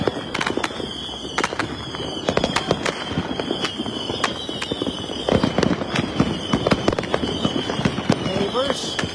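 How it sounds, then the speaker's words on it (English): Saturn missile fireworks go off in a New Year's celebration, with rapid bursts of sharp crackling pops and whistling streaks that keep going without a break, some close and loud. People talk and cheer now and then in the background. "So, there's still some more Saturn missiles because they last a long time."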